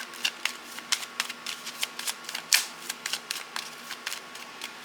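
Chakra cards are shuffled with a quick series of close, crisp flicks and slaps in an irregular rhythm over a faint steady hum.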